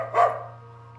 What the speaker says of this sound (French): des aboiements de chez les voisins